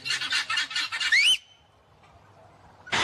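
Chicken-like clucking and squawking bursts, a rapid rhythmic run ending in a rising squawk, loud and alone before a quiet pause.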